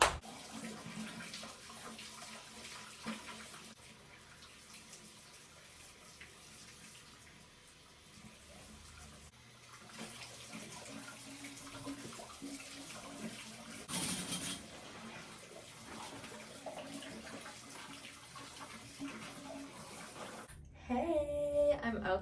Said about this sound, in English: I'm gonna rinse my hair over the side of the tub and get the majority of the dye out